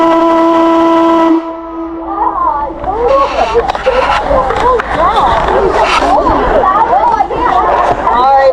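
The Britannia Mine shift whistle blows loudly for over a second, a steady harmonic steam tone that cuts off, followed by a crowd chattering and reacting.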